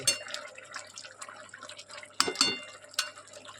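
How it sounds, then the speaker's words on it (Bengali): Potatoes boiling in a covered pot give a steady, bubbly simmer of small pops and drips, with a few louder spits near the end. It sounds close and fairly quiet, and no one speaks. "দেখুন কত সুন্দর ফুটে গেছে।"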